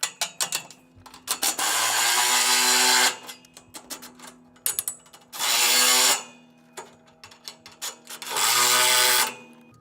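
Ratchet tightening the bolts on a wind-bracing kit for a hoop house, heard as bursts of dense, rapid clicking, each a couple of seconds long, with short pauses and lighter clicks between, close and loud, no talk.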